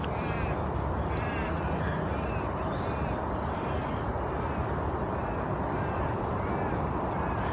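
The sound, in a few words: lorikeets calling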